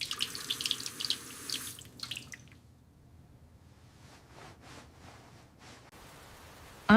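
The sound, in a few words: running tap water while washing face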